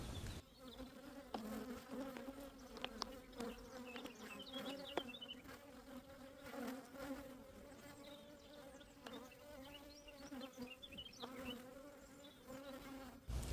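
Honey bees hum steadily during a hive inspection, a soft continuous buzz with scattered louder passes of individual bees close by, alone without talk.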